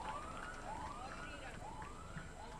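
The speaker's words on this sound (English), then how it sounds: "That is the free hit siren." At an amateur cricket match, the free hit siren sounds as a faint series of rising electronic wails repeating about every half second, over a quiet background with distant voices.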